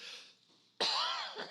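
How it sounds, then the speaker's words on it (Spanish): A person delivering a Sunday church sermon lets out one sharp, close cough after a quieter breathy moment, then it trails off. "Voy a estar luchando con una pequeña tos"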